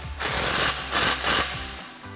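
A 13mm socket on a ratchet tightens an exhaust clamp on a Jeep Gladiator, with three bursts of rapid, buzzing ratchet clicks separated by short pauses, close and fairly loud.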